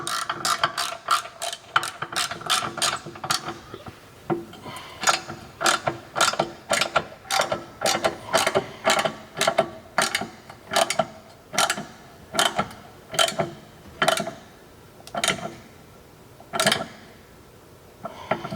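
Ratchet wrench tightening the lower subframe and brace bolts on a Nissan G35 drift sedan, a close, loud series of rapid clicking bursts in uneven strokes with short pauses between them.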